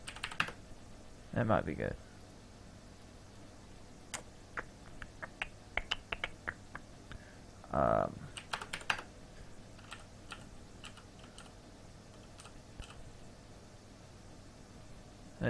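Bursts of typing on a computer keyboard, quick clustered keystrokes near the start and again around the middle, with scattered single key taps between them and a brief spoken remark.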